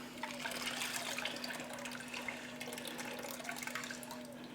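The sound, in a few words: water being emptied out of a cooking pan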